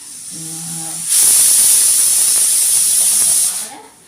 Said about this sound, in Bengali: এখানটাতে হচ্ছে ফুলকপিটাকে একটু ভাপিয়ে নিচ্ছি।